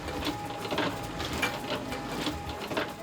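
A printing press running steadily, giving a dense rattling mechanical clatter with a repeating rhythm, close and continuous with no talking.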